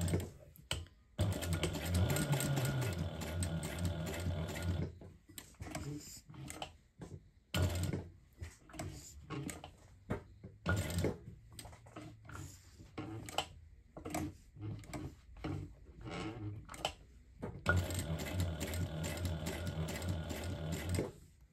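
A sewing machine top stitches through fabric and clear vinyl around the ID window of a clutch purse. Close, rapid mechanical chattering comes in bursts of varying length, separated by short pauses.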